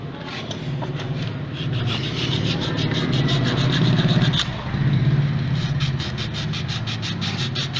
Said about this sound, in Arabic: بعد كده نجيب صنفرة نصنفر التيل